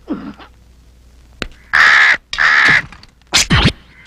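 A crow caws several times in loud, harsh bursts close by, with short gaps between them and a brief rustle at the start.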